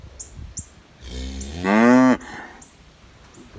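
Barn cattle waiting for corn let out one loud, drawn-out moo from close by, preceded by a few faint bird chirps and quiet rustling in a calm barn.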